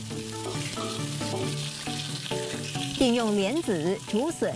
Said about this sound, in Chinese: 把先前处理好的肉丁、火腿丁、虾干等食材一锅爆炒